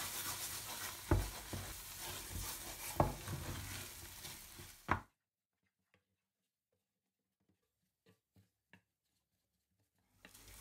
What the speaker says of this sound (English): make sure to stir continuously so the milk doesn't burn